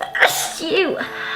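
A person sneezes once, sharp and close, during a makeup routine, and talking follows right after.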